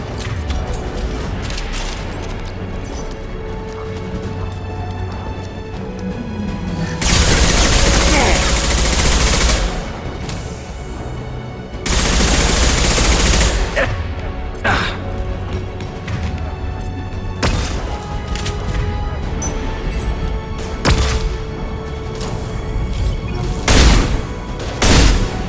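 Sustained gunfire bursts and booming impacts from a Mass Effect 2 Remastered firefight, loud and dense, with heavy volleys surging around the middle and scattered shots and thuds throughout, backed by game music and occasional voices.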